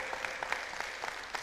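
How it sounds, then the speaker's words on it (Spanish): A church congregation claps along in rhythm, a fairly faint, evenly spaced pattern of group claps at a steady pulse, heard from some distance. "Denle un aplauso a nuestro Jehová Jireh,"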